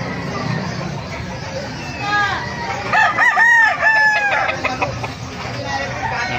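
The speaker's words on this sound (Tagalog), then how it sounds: "Ganda ng mga manok" Roosters crowing and chickens clucking at the busy Bocaue market, several bright crows overlapping in the middle over a background of crowd chatter and people talking nearby.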